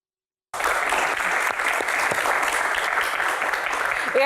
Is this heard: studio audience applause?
yes